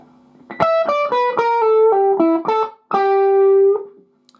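An overdriven electric guitar plays a lick slowly, as a steady string of about ten distinct descending notes, then a short pause and a final long sustained note that rings before cutting off.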